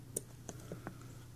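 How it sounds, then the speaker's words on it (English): A small relay, its coil energized by a pack of three 12-volt batteries wired in parallel, gives a few faint sharp clicks spaced irregularly over a low steady hum. "Hear it clicking"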